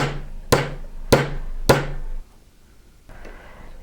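A metal stamp struck with a hammer into metal clamped in a vise: three sharp, ringing blows about half a second apart, each with a short metallic decay, followed by quiet room tone.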